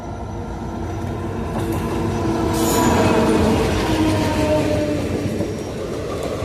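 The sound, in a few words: train passing on the Kumarghat railway line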